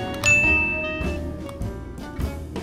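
An intercom doorbell at a dentist's clinic gives a clear electronic chime, a bright sustained ding that rings and fades over about a second, followed by softer clanks and knocks.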